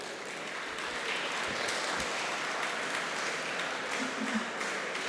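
A seated audience at an engineering college ceremony applauds top-ranked biotechnology graduates with a steady, even wash of clapping, moderately loud and heard from a distance, with little else audible.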